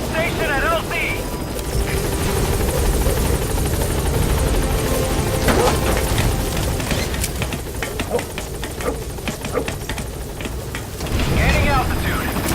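The Pequod helicopter from the Metal Gear video game drones with a loud, continuous rotor roar throughout, overlaid by scattered crackling bursts and a few voice fragments.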